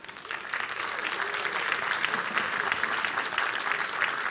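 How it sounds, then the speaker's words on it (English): An audience applauds the BLG team at the Worlds 2024 media day, with steady, dense clapping that holds at an even level from start to finish. "please a big round of applause to BLG"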